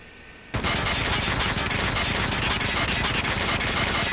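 Rapid automatic hip-fire from a BK57 rifle in a shooter video game, an unbroken loud burst of densely packed shots starting abruptly after a brief silence and running to the end.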